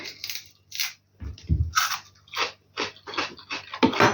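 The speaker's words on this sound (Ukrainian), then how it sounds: "О, яка смачна ця редька." Close, crisp crunching as someone bites into a raw radish, a series of sharp crunchy bites and chews in irregular succession.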